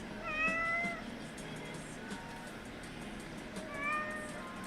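A domestic cat meows twice indoors, a drawn-out cry near the start and another toward the end, both fairly close over a quiet room hum.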